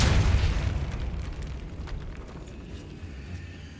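A Depulso force spell blasts from the wand in the Hogwarts Legacy video game, a single muffled boom that hits hard at the start and then decays into a long rumbling tail.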